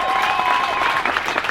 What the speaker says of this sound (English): The gallery down there by the basket clapped